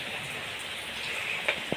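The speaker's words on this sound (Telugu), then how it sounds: "చాలా వర్షం పడుతుంది." Heavy rain hisses down steadily as a dense, even wash of sound, with a couple of louder drips near the end.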